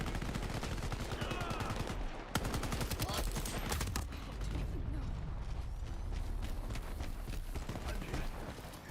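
Rapid gunfire from a shooter video game, dense continuous bursts of shots with clattering mechanical noise, steady and loud throughout with a brief break partway.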